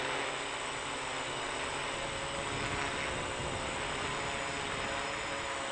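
A DJI Naza-lite drone hovers outdoors in a little wind, its rotors giving a steady, loud broadband whir that holds level throughout with no talking.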